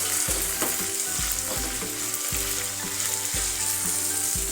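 Tomatoes fry with onions in a pan, giving a steady loud sizzle with repeated stirring scrapes and clacks at a regular rhythm throughout, with no voices.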